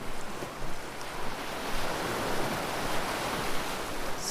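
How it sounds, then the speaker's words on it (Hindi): Ocean waves wash continuously with a broad, rushing hiss of surf, steady and fairly close, rising and falling gently with some wind noise and no voices. "समंदर के लहरों की आवाज़ मुझे सुनाई दे रही है।"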